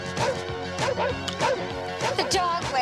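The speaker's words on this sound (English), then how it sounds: "The dog went on the picnic basket." Dog barking in a comedy film scene at a picnic, with rapid repeated barks mixed with crashing and clattering, dense and loud over music and voices.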